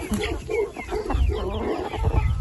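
Chickens on a poultry farm, including Black Copper Marans, cluck and murmur close by in a continuous, busy chatter with low rustling underneath.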